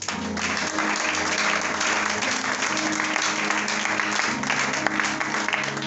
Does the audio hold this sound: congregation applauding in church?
yes